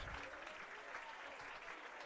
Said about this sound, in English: The crowd is giving him a nice hand.